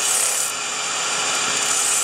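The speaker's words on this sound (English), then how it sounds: "we use a block of wood with a 40 or 50 grit sandpaper glued to it" Steady rasping of a wooden block faced with 40 or 50 grit sandpaper rubbing over a red rubber floor sander drum, close and continuous with a slight rhythmic scratch.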